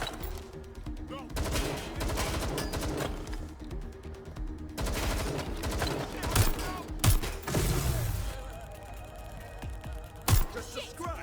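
Gunfire in Watch Dogs Legion rattles in loud, rapid bursts and scattered single shots amid shouting combat chatter, with a few heavier impacts toward the end.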